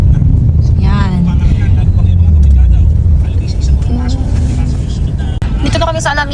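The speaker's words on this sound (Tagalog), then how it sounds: "grabe, sobrang dami ng sasakyan" Heavy car traffic fills a street in Alaminos town with the loud, continuous rumble of engines and passing vehicles. Someone talks over the noise throughout, and a few higher tones cut through near the end.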